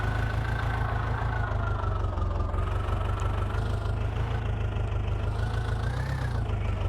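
Tractor engine in a video game idling in a steady low rumble with a constant mid hum, uniform and loud throughout, no voices.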